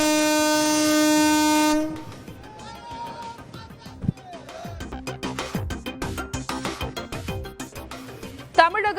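A passenger train on the Coimbatore–Pollachi line sounds a long, loud horn blast, then rumbles past with rhythmic clattering of wheels over rail joints and rolling carriage noise that builds toward the end.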